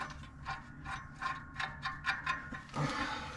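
A ratchet wrench tightens the clutch bolts of an MM G950 motorcycle fitted with a brand new clutch and pressure plate. About seven even, close ratcheting strokes click in a steady rhythm, followed by a brief rougher burst, with no speech.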